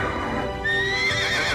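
A horse whinnies and neighs over clip-clopping hooves, a sound effect for the red horse of Revelation, the second horseman; the call rises and sustains loudly for over a second, with no talking.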